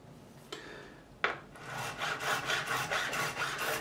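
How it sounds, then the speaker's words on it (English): A profiling file rasps back and forth along a guitar fret on a Fender American Standard Telecaster, removing burrs in a steady series of close, soft strokes after a couple of isolated taps. "take the profiling file and just remove any burrs"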